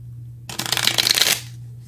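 Tarot cards shuffled by hand in a quiet room, a dense burst of riffling and flicking that lasts under a second, set against a low steady hum with nothing else around it.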